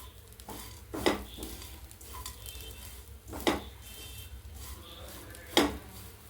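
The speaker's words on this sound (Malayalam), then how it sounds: "ഇതുപോലെ നന്നായി ഇളക്കി കൊടുക്കുക" Coconut curry mixture frying in a pan with a pinch of fenugreek, stirred steadily, with a few sharp scraping clinks of the spoon against the pan over a low sizzle.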